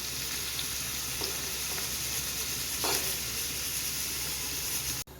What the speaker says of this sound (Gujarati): તમે જોઈ શકો છો આપણું લસણ એકદમ કકડી રહ્યું છે